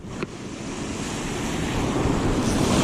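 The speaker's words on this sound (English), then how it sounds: "they're releasing water and they're generating, so we got a lot of current right now" Strong current rushing below a river dam during a water release for power generation, a continuous loud wash of water with wind buffeting the microphone, swelling steadily louder.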